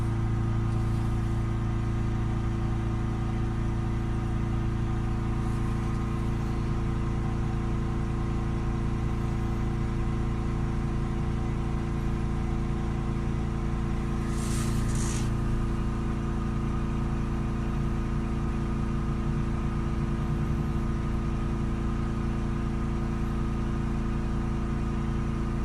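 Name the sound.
Ford Transit Custom 2.2 diesel engine held at 3200 RPM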